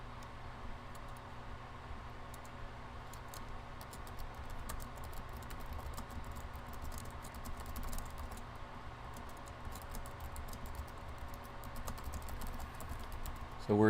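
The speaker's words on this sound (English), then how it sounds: "Let me just type it." Someone types steadily on a computer keyboard, a long run of quick, faint key clicks over a low background hum.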